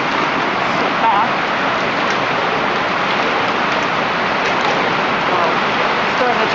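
A hail storm easing into rain gives a loud, dense and steady outdoor hiss of falling precipitation that covers the whole span without pause.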